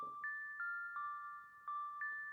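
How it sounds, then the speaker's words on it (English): A simple bell melody from a sampled vinyl beat on an MPC One, clear ringing tones struck in a steady repeating pattern, each note sustaining bright and even at moderate level with no voices. "I've got a simple bell bit playing."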